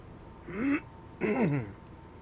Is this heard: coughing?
yes